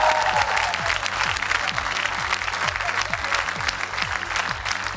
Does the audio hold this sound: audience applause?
yes